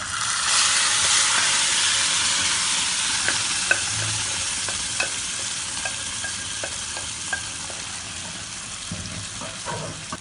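Chopped banana stem hits hot oil with tempered spices in a pan, giving a loud, steady sizzle and frying hiss while a spoon scrapes and stirs with scattered clicks throughout.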